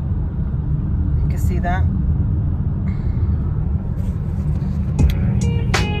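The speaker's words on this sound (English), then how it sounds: "we're on our way, and look, still in traffic" A car drives in slow traffic, a steady low engine and road rumble throughout, with a few brief high squeaks and clatters and a person speaking briefly over it.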